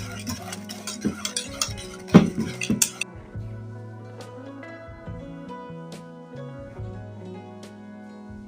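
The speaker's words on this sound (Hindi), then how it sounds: "अब इसमें हम वनीला एसेंस के चंद कतरे ऐड करते हैं। इसे भी हम मिक्स कर देते हैं।" A spoon stirs homemade chocolate syrup with butter and a few drops of vanilla essence, giving brisk clinks and scrapes for about three seconds before it settles into quieter, sparse taps over a steady tonal background.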